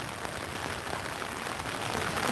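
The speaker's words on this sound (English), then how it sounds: "likes the sound of the rain" Steady rain falls on a surface, producing a dense, even hiss of drops that holds at a constant level throughout with no voices.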